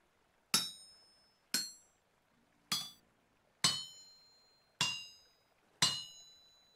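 Six loud, ringing hammer strikes on metal in the Vintage Story video game, spaced about a second apart, each a sharp metallic clang with a bright fading tail over near silence.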